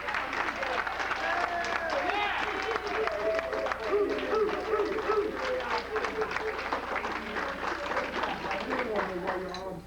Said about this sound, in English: everybody stand up to Gloria Braxton, a big clap